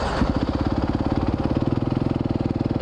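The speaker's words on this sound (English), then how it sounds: "Oh, that was like a Yamaha YZF Supermoto." A Yamaha YZF supermoto motorcycle going past on a city street, its engine giving a close, loud, rapid pulsing thump that holds steady for a few seconds.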